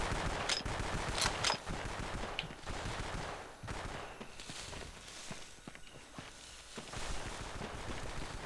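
Gunfire rattles in the Vietnam War video game Vietcong, with sharp close shots and bursts scattered irregularly over a busy combat background and shuffling movement.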